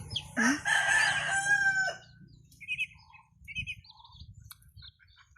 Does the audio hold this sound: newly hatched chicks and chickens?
yes